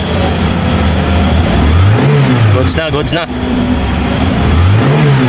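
Engine of a Mitsubishi Galant with a repaired RPM gauge capacitor, revving in two smooth rises and falls, close and loud, with someone talking over it.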